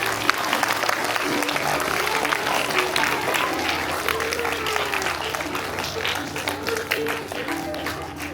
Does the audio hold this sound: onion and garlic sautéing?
no